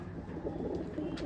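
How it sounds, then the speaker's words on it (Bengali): A female Madrasi pigeon coos nearby, a low, continuous rolling call that stays at a modest level throughout the brief moment. "এটা মাদা পায়রা।"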